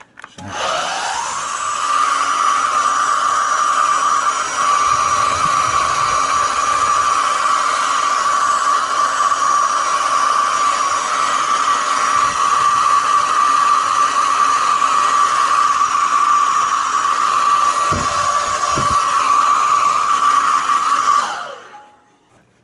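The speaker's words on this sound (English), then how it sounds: "I have my hairdryer to dry it" A loud hair dryer runs continuously at a steady high whine for about twenty seconds, then switches off, used to dry Rwandan coins.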